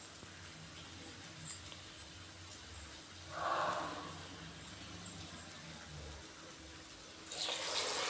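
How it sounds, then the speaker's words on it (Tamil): Water is poured into a pot while cooking brinji rice, a short splashing gush in the middle and another toward the end, fairly faint over quiet kitchen background. "இப்போ நம்ம தண்ணியை ஊற்ற போகிறோம்."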